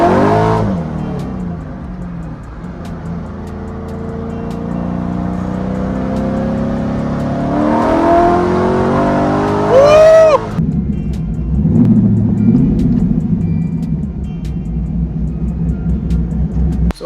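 An LS3 V8 in a Nissan 350Z roars loudly in second gear and climbs steadily in pitch under hard acceleration, peaking with a high whine before dropping to a lower rumble.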